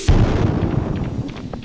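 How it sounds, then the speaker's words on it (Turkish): A bomb bursts in the snow in Stardew Valley: one sudden loud boom with a deep rumbling tail that slowly fades, followed by a few faint crackling pops. "Şuraya karların ortasına bir bomba koyacağım."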